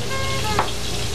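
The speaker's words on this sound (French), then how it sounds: "je commence à mélanger mes légumes tout en continuant à les cuire" Vegetables sizzle and fry steadily in a pan while being stirred, with tomatoes and zucchini among them; a continuous, fairly loud crackling hiss with a brief scrape of movement midway, no talking.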